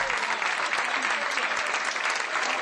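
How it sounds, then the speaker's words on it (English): A crowd gives a standing ovation at a soldier's surprise homecoming reunion, with dense, sustained applause that stays steady and loud throughout, alone and without talk. "The crowd gave this surprise reunion a standing ovation."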